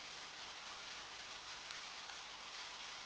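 Steady rain falling, a dense continuous hiss with no other sounds, even and unbroken throughout.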